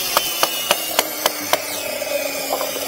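A 1.5-inch chisel is driven into a pocket in a timber frame stair stringer with six sharp, evenly spaced mallet strikes, close and crisp over a steady hum, then a few softer taps.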